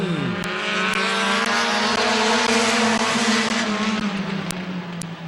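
A field of race cars roars past at Midvale Speedway during an 8-lap heat race, engines loud and close with pitch sweeping down as they pass, a sustained droning chorus of motors.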